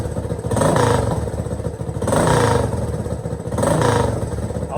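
A Honda 200s motorcycle engine revs three times in a row, each throttle blip swelling loud and close before it drops back to a rough, clattering idle.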